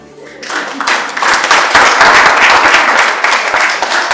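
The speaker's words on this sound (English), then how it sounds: "Please clap for us." A seminar audience at an innovation conference applauds loudly, a dense, sustained wash of many hands clapping that swells in after a brief quiet start and holds steady to the end.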